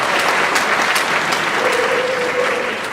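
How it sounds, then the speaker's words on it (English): A college keynote audience of first-generation students breaks into applause, a dense, even roar of clapping that holds steady and fades slightly at the end, with a faint voice briefly underneath. "Give yourself a round of applause."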